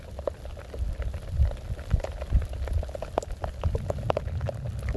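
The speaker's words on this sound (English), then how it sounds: "the rain comes down a little hard" Heavy monsoon rain patters and splashes steadily over ground and surfaces, dense irregular drops close by, continuous without voices, outdoors where a western diamondback rattlesnake is resting.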